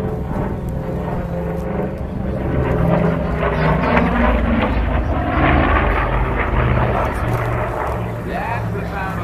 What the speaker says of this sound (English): That's the sound of the Pratt & Whitney radial engines.